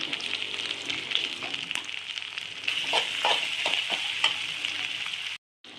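Ginger garlic paste fries in a pan for an okra curry, hissing and crackling steadily like rain, growing louder midway, with stirring scrapes before a sudden cut to silence at the end.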